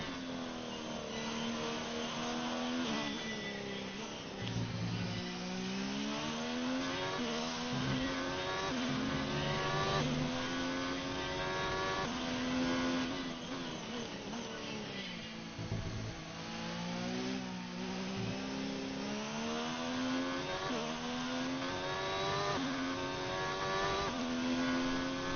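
Formula 1 car engine in the F1 2019 game during a lap of the China circuit, a loud continuous high-pitched whine that rises through gear changes and dips briefly on downshifts, alone with no voices.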